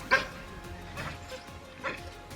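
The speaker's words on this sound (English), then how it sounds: "A lioness stands her ground without fear against the aggressive pack of wild dogs." A pack of wild dogs yips at a lioness standing her ground by her den, with three sharp, high yips spaced about a second apart over faint background noise.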